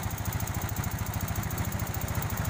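A Yamaha Mio Sporty scooter engine runs steadily up close, a smooth rapid putter with an even pulsing rhythm that fills the whole moment without talk.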